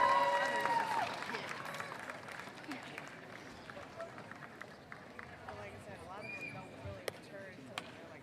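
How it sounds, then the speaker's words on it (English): A crowd at a 2021 high school commencement applauds the graduating class. Clapping begins fairly loud, then thins into scattered, crisp claps, with faint voices mixed in. "will you join me in another round of applause for the class of 2021?"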